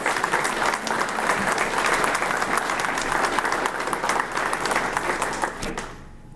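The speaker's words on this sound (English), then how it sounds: "Please give these Turner a round of applause." An audience applauds the Turner team at the Gardner Justice Center ribbon-cutting and dedication ceremony. Steady, full clapping from a sizeable crowd holds for about six seconds, then tapers off at the end.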